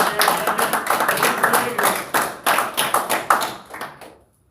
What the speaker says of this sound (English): If we can just give them a little applause for their hard work.